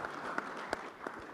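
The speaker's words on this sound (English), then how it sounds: "A round of applause for Mr." Audience at an African connectivity summit applauding a speaker, fairly faint and thin clapping with a few sharper individual claps standing out, heard from a distance in a large hall.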